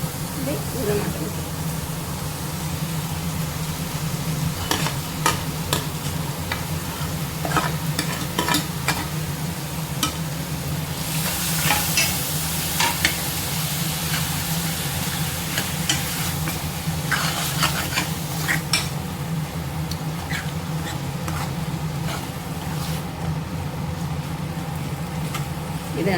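Prawn thokku fries in a pan with a steady, close sizzle while a utensil repeatedly scrapes and stirs the thick masala, irregular clacks and scrapes rising over the constant frying hiss.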